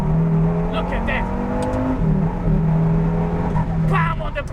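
A KTM X-Bow GT-XR engine roars loudly and steadily from close by, with its pitch rising and then dropping at gear shifts, while a person talks over it throughout.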